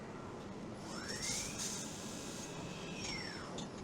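A CNC lathe machines special brass parts of 700 N/mm² strength in series production, giving a steady whine with a rising and falling tone over constant machine noise, moderately loud and without speech.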